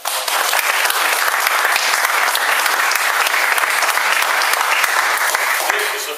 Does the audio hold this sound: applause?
yes